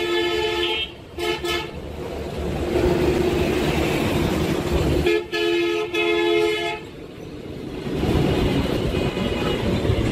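A train at Rajshahi railway station sounds its horn in several long toots over a steady rumble of the engine and the busy station.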